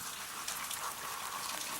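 A big icicle dripping meltwater outdoors, giving a faint, steady patter of drops that runs without pause, close to the sound of light rain.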